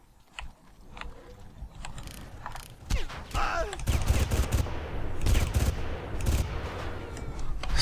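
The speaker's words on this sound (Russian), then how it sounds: "Скотина до последнего стреляет." Enemy gunfire in the shooter game Far Cry, a sustained, dense crackle of rapid shots and bursts that grows louder and more intense toward the end, with no voices over it.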